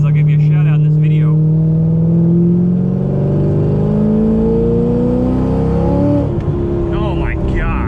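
A C5 Z06 Corvette pulls hard in third gear on a back road, its engine note climbing steadily and loud up toward about 65 mph as the wheels spin, then easing off; a voice talks over the engine.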